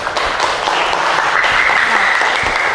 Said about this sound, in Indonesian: Tepuk tangan biar semangat